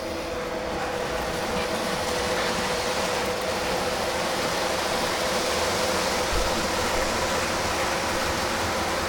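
A model train runs along its track with a steady, dense rumbling and rattling whir that holds at an even, fairly loud level the whole time, with no voices over it.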